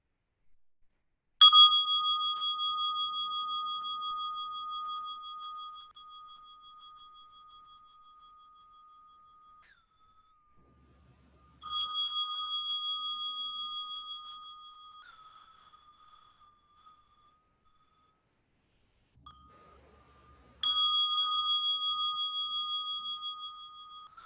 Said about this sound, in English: I'll start off by inviting 3 sounds of the bell.